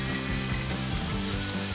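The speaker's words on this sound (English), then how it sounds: "As the tile drill starts to mill, the heat will cause the wax to melt," A hex-fit diamond tile drill bit milling through ceramic tile, a steady close grinding whir with a constant motor hum and faint rhythmic rasping, alone without speech.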